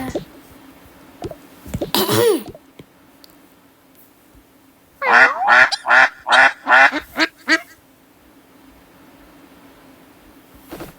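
A burst of quacking comes early in the Toca Boca video game, then a rapid run of about seven loud duck quacks in a row, with quiet stretches between.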